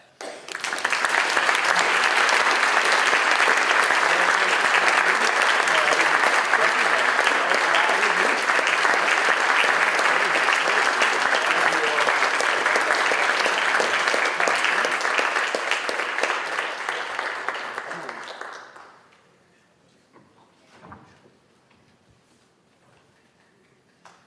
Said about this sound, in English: Round of applause to everybody